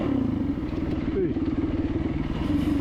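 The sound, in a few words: enduro motorcycle riding single track at Jawbone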